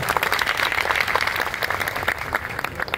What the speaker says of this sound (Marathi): मोरे सरांच्यासाठी जोरदार टाळ्या होऊ द्या